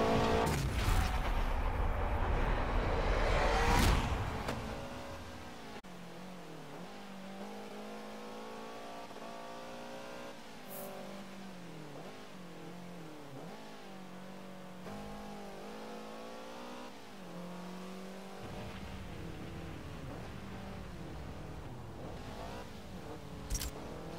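A Subaru BRZ revs in the Forza Motorsport 7 racing game on Xbox One S with a steering wheel. A loud burst opens, then the engine revs climb and drop repeatedly in a sustained, close whine.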